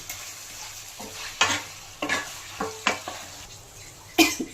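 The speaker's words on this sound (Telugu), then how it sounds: "ఇప్పుడు మనం ముందుగా మ్యారినేట్ చేసుకున్న చికెన్ వేసి 5 నుంచి 7 నిమిషాలు బాగా వేయించండి." Marinated chicken fries with tomatoes in a pan while a spoon stirs, giving a steady low sizzle broken by about half a dozen close, scraping strokes and metallic clinks.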